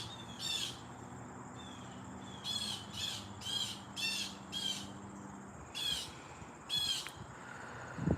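Repeated bursts of raspy bird calls ring out outdoors, several in a row with short pauses, over a low steady background hum.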